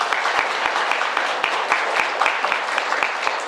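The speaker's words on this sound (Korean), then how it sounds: "다시 한번 박수 부탁드리겠습니다" Audience applause at a community book concert, following a lecture on social capital and village connections; steady, dense clapping from a sizeable crowd sustained throughout, with no talking over it.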